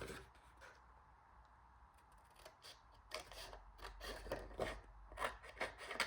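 Scissors or a craft blade slice through 6x6 patterned paper along score lines while making a mini tag pocket folder, giving close, faint rasping cuts in short irregular strokes that grow a little louder toward the end.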